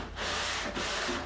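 Sandpaper, 120 grit, rasps across a wooden Telecaster guitar body in two long, close strokes of loud, even scratching.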